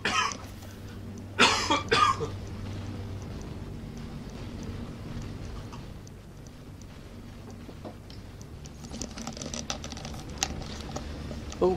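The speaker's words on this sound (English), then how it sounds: "I kind of need to cough." A gamer coughs a couple of times close to the microphone early on, sharp bursts followed by quieter room noise and faint game sounds from a Destiny nightfall strike.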